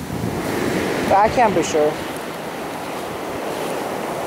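Ocean waves surge and wash up into a beach parking lot, a steady broadband roar of surf and wind with a few brief louder splashes early on; a voice speaks briefly over it.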